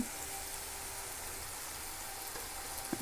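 Jalebi fries in hot oil with a steady, dense sizzle that stays even and close throughout, ending in a brief clatter, and no one talks.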